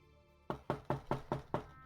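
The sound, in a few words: knock at the inn's entrance door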